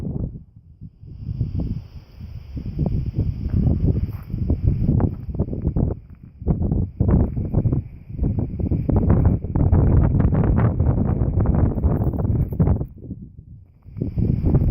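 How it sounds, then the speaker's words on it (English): Strong gusty wind on a mountain peak above Furnace Creek in Death Valley, buffeting the microphone in loud, irregular rumbling bursts and low roaring gusts with brief lulls, close and continuous throughout. "Bit windy up here."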